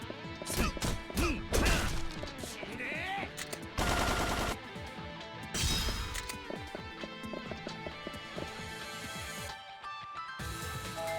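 Gunfire and heavy impacts in Yakuza 3, a dense series of loud cracks and smashes in quick succession, with brief gaps and game background between bursts.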